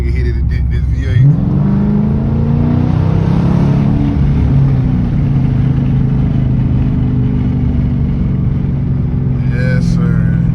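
A Dodge Challenger R/T V8 with straight pipes rumbles loud and deep, rising sharply in a rev early on, then holding a steady heavy drone under a driving recording with brief voices.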